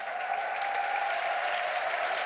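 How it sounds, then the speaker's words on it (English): A large crowd applauds and cheers in the Festhalle arena at the Dota 2 Frankfurt Major esports event: a dense, steady roar of clapping and voices that holds loud and unbroken throughout, with no clear speech. "The cheers that we heard have been the loudest we've had here at the Festhalle all week"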